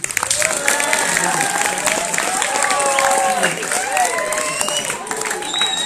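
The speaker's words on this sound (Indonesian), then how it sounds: "Kita beri aplaus untuk Kang Imam." An audience at an Islamic boarding-school gathering applauds Kang Imam, a steady burst of clapping held for several seconds with a voice speaking over it.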